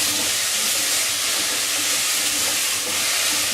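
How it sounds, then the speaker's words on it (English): Chopped vegetables, including carrot, fry in a pan for homemade soup, producing a loud, steady, broadband sizzle and hiss with no pauses. "What we're doing, rather noisily, is just improving the flavour of the vegetables."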